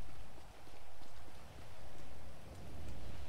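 Steady rainfall in a GTA roleplay game, a soft continuous hiss of rain under faint pattering, with no voices.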